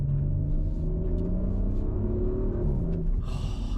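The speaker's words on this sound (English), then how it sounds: "it's one of the best sounding modern engines, this." Audi RS4 Edition 25 with a V6 engine revving, a loud, deep rumbling exhaust note that rises in pitch, heard close without talk.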